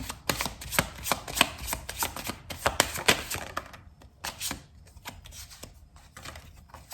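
A deck of tarot cards is shuffled briskly and close by, with rapid riffling and flicking bursts that ease into softer, sparser card slides, and no voice over them.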